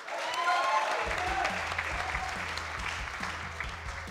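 Audience applause for student debaters on a debate stage, steady and fairly full across the whole stretch, with low thumping or rumbling underneath from about a second in.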